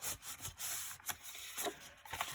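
A paper pocket edge for a mini album is folded by hand: soft, quiet rubbing and creasing strokes in short bursts, close up, with no talk.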